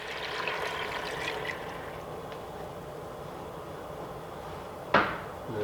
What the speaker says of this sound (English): And then also I add about 3 cups of water.